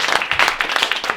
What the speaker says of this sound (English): Let's give one more round of applause to our storyteller, Valerie Blomberg.